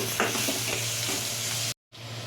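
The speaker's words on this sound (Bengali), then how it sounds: "গুঁড়ো লঙ্কার গুঁড়ো এক চামচ দিয়ে ভালো করে মশলাটাকে কষিয়ে নিতে হবে" A spice masala with chili powder is stir-fried in a pan, sizzling loudly and steadily with stirring scrapes, then cut off briefly before resuming. No one speaks.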